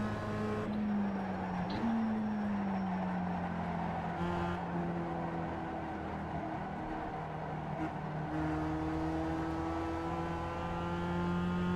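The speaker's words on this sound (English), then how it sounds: "you can hear how much I'm really feathering the throttle through that final corner" A production race car in the iRacing sim at Lime Rock drones loudly and continuously, its engine pitch dipping and climbing in small steps as the throttle is repeatedly eased off and reapplied through a corner.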